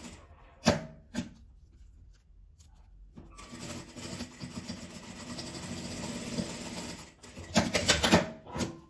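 A sewing machine stitches scraps of fabric for a phone holder in a continuous mechanical whir lasting several seconds, with scattered handling noises and taps before and after.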